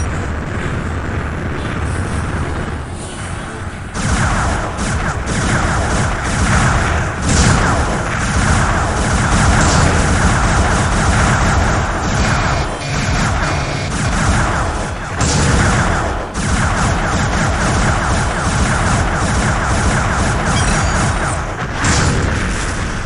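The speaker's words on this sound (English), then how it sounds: "Third turret destroyed!" Heavy booming explosions and crashing blasts from turret destruction in the space combat game Starlancer, loud and dense throughout with repeated impacts over a continuous roar.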